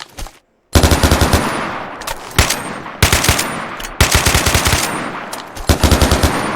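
Assault rifles from a video game gun mod, including an AK, fire in loud rapid automatic bursts, several sharp back-to-back volleys separated by short pauses, with no voice over them.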